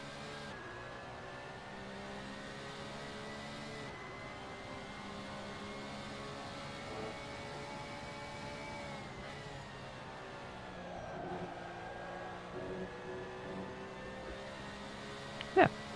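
Race car engine in the Assetto Corsa racing game at Donington, a steady mid-level drone of harmonic engine whine with gentle pitch shifts as revs rise and fall, ending in a brief sharp spike.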